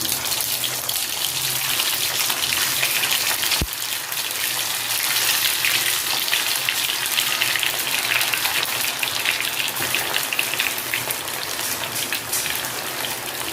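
Potato pieces for a potato chilli roast hiss and crackle in hot oil, a dense, steady sizzle close by that starts with a sharp drop-in and keeps bubbling loudly with no talk.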